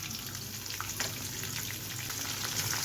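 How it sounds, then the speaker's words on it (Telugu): Sliced onions fry in hot oil with curry leaves and dried chillies, a dense, continuous crackling sizzle at steady loudness close to the pan, with no voices. "ఉల్లిపాయలు దోరగా వేగాలి."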